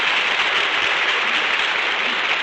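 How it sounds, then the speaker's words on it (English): A radio studio audience applauds during an old broadcast, a steady, even wash of clapping heard alone throughout. "That applause goes from coast to coast."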